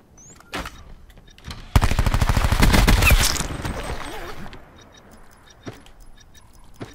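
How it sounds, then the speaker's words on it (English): Rapid automatic gunfire bursts out in a shooter video game match, a loud dense volley of shots lasting about two seconds, framed by scattered single cracks and clicks before and after. "There's another guy shooting at him."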